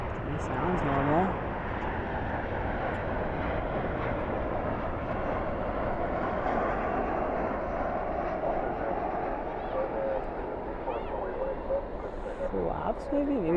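Airliner landing at DFW airport at night with spoilers up, a steady broad roar of jet engine and airflow noise continuing throughout, heard from nearby with some faint background chatter.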